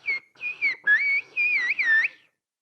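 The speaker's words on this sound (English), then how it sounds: "And how about we speak whistle language?" Whistled Turkish language, a single whistler producing a quick sequence of about six clear, high pitched whistles that glide and warble up and down, separated by short gaps, close and alone with no talking.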